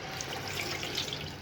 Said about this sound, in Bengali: এবার মাছের হাতটা ধোয়ায় দাও, ডান হাতে হাতে ধোয়ায় দাও জল দিয়ে